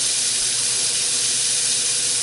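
Chopped shallot, onion and garlic sizzle in a hot pan with a loud, steady, continuous hiss close by, with no voices.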